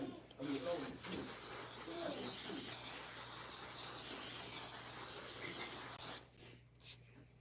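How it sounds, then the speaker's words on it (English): A long, steady hiss of a fine mist from an alcohol-based moisturizing makeup setting spray, close up, lasting several seconds before cutting off, followed by a couple of quieter short bursts. "This is a moisturizing setting spray."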